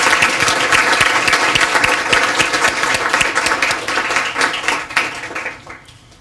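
A warm, sustained round of applause from an audience at a school student-of-the-month ceremony, dense clapping holding steady for several seconds before tapering off near the end.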